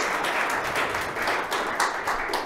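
Conference audience applauding after a payments talk, a dense, steady wash of clapping across the room that fills the whole clip at even loudness.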